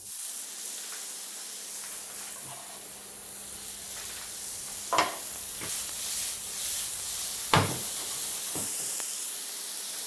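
Shallots and mushrooms fry in a pan with a steady, moderate hiss and sizzle throughout. Two brief sharper pops or scrapes stand out near the middle and toward the end, with no talk.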